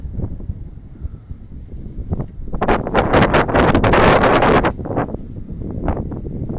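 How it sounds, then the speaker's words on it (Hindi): Strong wind gusts buffet a rooftop where pigeons are flying, rising into a loud roaring rush that peaks midway and then eases into uneven, lighter blasts against the microphone. "हवा बहुत तेज चल रही है जी"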